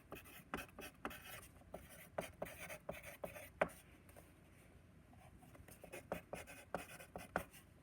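Pen or pencil writing by hand on paper during a geometry lesson, a quiet close series of irregular scratchy strokes and taps with brief pauses between them.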